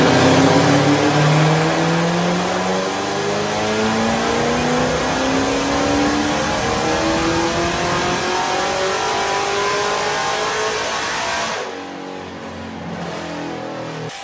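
A 1000-horsepower Chevrolet Camaro SS engine revs up in one long, loud pull, the pitch climbing steadily for about eleven seconds before easing off and dropping back, with no talking over it.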